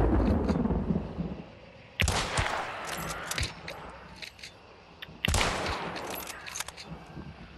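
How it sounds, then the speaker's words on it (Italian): Gunfire in the PS4 game Hunt: Showdown: two loud, sharp shot blasts about three seconds apart, each with a reverberant tail, with smaller cracks between them over ambient game noise. "io sparo qua a sinistra"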